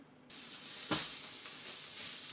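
Steady sizzling and frying of food on a Silvercrest SKGE 2000 C3 2000 W multifunction electric grill near 220 degrees, a loud continuous hiss with a brief swell of crackle partway through, no voices.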